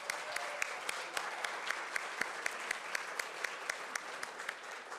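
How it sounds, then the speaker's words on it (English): An audience claps steadily for a dance team at an Asian American and Pacific Islander Heritage Month celebration, a fairly soft, even patter of many hands held at a constant level throughout. "Let's give them a round of applause"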